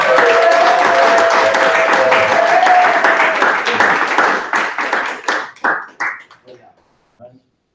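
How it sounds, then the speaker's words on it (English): An audience applauds loudly for two honorees at a meeting, the dense clapping thinning into a few scattered claps and then fading to silence. "Let's give him and Andrea a big round of applause."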